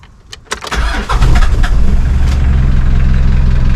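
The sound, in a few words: Mitsubishi 4D56 diesel engine starting after manual heat start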